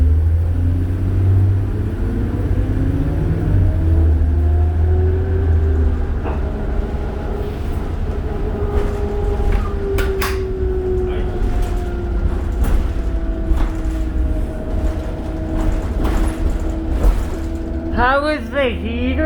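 Inside a 2005 New Flyer D40LF city bus on Calgary's 12 Southwest loop, a steady low engine rumble and road noise fill the cabin, with gear-shift tones rising and falling and occasional rattles, while people talk throughout.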